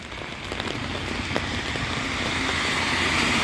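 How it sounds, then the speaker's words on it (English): Steady rain falls during a daytime downpour, a dense close hiss of drops on surfaces that builds slightly louder, with a faint passing vehicle in the background and no voices. "But as you can see, it's raining."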